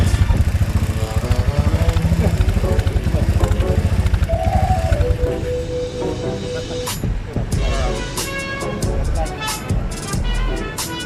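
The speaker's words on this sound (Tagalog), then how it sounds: "Umaandar pa rin ang motor nyo." A motorcycle engine fitted with a power tuner patch runs steadily and loudly up close, its drone easing somewhat midway, with scattered clatter and voices talking over it.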